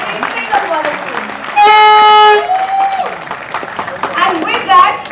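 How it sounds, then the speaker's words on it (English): Audience at a corporate event in Delhi clapping in a round of applause, moderate scattered claps with voices and a brief loud tonal burst in the middle, fairly close. "A big round of applause for every single one of you."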